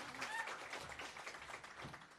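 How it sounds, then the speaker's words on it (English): Audience applause at an awards reveal event honoring a high school's winning project, a steady dense patter of many hands clapping at moderate volume throughout. "another round of applause"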